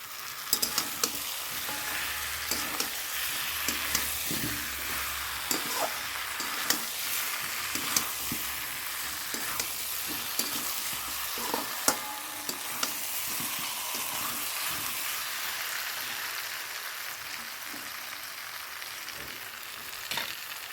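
Potato pieces frying in a pan of crab curry give a steady, close sizzle with frequent scraping stirs and clicks of a utensil throughout, and no one speaks.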